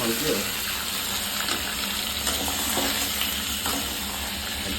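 Chicken and onions sizzle steadily in a pan while being stirred, a constant frying hiss with soft scrapes throughout.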